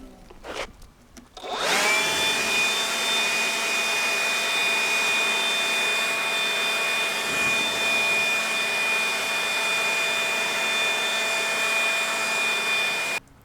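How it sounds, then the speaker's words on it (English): A power washer fired up for property cleaning in mid November, after a few clicks and knocks comes a loud, steady high-pitched motor whine with a strong tonal hum that runs unbroken and close until it cuts off at the end. "get the power washer out and hooked up, fire it up"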